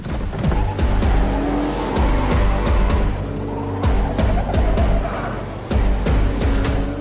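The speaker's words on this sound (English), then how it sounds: "They hurtle on through the nighttime streets in a flurry of gear shifts and tyre smoke" Several cars race hard through night streets, engines roaring loud and close with repeated gear-shift revs and bursts of tyre squeal, continuous throughout.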